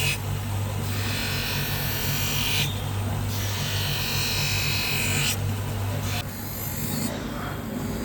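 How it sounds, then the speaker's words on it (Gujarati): Machine finishing the edge of an eyeglass lens: a steady buzzing, rasping grind with a low hum underneath, rising and falling in sections as the lens is worked against it. "આ અત્યારે પ્રોપર ફિનિશિંગ દેવાનું કામ ચાલુ છે."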